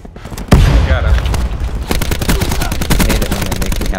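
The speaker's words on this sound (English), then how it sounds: "There's one guy firing." Rapid automatic gunfire in the online shooter Call of Duty Black Ops 4, a loud burst starting after a brief quiet then continuing as dense, rattling shots through a deathmatch moshpit.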